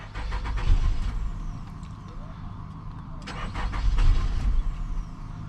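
A Nissan Altima 2.5 engine cranks and tries to catch, with two loud rumbling bursts of low churning separated by a quieter stretch, all close by.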